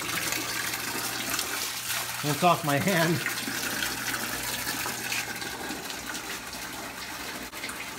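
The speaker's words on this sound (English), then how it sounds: "All right, flip the water back on." Water runs steadily into a new aquarium over sand in a fish room, a constant rushing and splashing flow, with someone briefly talking over it.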